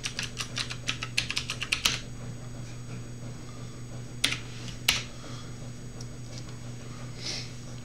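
Computer keyboard typing of a sudo apt install command in a Linux terminal: a quick burst of close, crisp keystrokes followed by a couple of isolated harder key presses, like Enter, against a faint steady hum.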